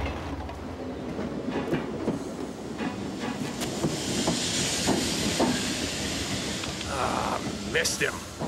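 A subway train rumbles and clatters continuously with hissing and metallic squeals, while voices talk faintly underneath.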